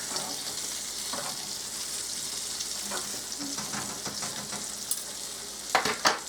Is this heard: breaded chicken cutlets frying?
yes